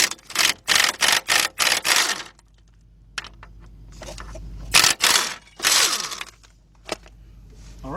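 A socket wrench removes the caliper bracket bolts on a 2013 Jeep Patriot, with a fast run of loud ratcheting bursts, a pause, then a few more clicks and metallic clatters close by.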